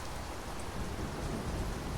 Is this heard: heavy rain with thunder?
yes